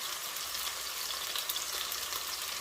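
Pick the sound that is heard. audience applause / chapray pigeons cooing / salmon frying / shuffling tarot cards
salmon frying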